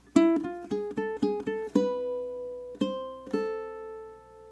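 Ukulele duet phrase in an Eastern-sounding style, played with picado picking: about ten crisp plucked notes in a quick, even run, then two slower ringing notes with long sustain, close and clear with no talk.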